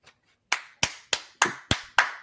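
Hand clapping, six sharp, close claps in a steady rhythm after a brief faint tap, each crisp hit decaying quickly into silence.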